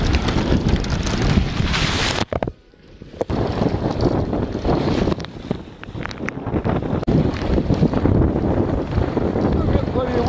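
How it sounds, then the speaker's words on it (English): Strong wind roars steadily across the microphone aboard a Hobie sailboat moving near the shore, a loud, continuous buffeting rush with a brief lull partway through, while people on board talk. "Still got plenty of wind, even though we're close to the shore here."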